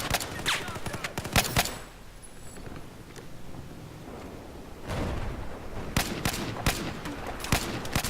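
Rapid bursts of RFB rifle fire in the Battlefield 4 beta: sharp volleys crackle at the start, a quieter stretch follows, then more loud shots return near the end.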